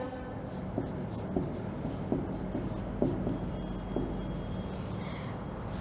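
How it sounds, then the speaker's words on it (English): A teacher writes a sentence on a classroom board, with a series of short tapping and scratching strokes that fall in an uneven rhythm over a quiet room. "Now the fourth sentence I write,"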